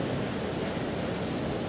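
Ocean waves lap steadily near a tropical beach at sunset, a continuous soft broadband wash of surf with no distinct breaks, alone and without voices.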